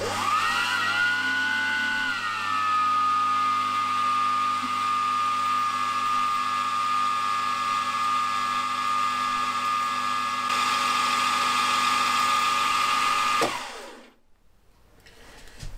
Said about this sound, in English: So now it's a matter of drilling with this 1/8 of an inch drill bit.